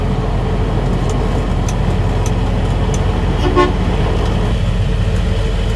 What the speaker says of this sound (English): Why were you honking your horn, dude?